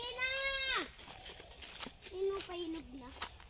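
A goat on a farm bleats once loudly with a wavering, harmonic cry, followed by a softer second bleat after a pause, with outdoor background noise and a person talking nearby.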